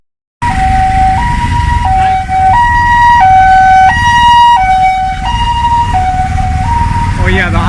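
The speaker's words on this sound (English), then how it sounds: "There's an ambulance trying to get through this way" An ambulance siren wails loud and close, alternating between two tones in a steady high-low pattern, as the vehicle tries to push through a traffic jam on a street in Negombo, Sri Lanka.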